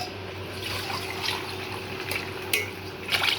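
Buttermilk mixed with salt and poured back and forth between vessels, giving a continuous close liquid splashing and trickling with light metallic clinks of the containers, no talking.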